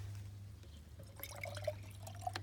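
Tap water poured from a container, a thin trickling stream with small splashy drips that begins partway through and runs briefly, close and fairly quiet over a steady low hum.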